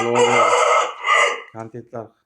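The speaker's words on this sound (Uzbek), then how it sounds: "Mana xo'rozlarimiz" A rooster crows loudly and close, a long drawn-out call followed by a few short clucking notes.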